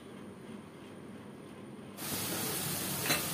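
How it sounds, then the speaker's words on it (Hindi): Onions drop into hot mustard oil with fenugreek seeds in a home kitchen and set off a sudden loud, steady sizzle. A quiet background precedes it, and the sizzle continues alone. "प्याज को अच्छे से फ्राई कर देंगे हल्का ब्राउन होने तक"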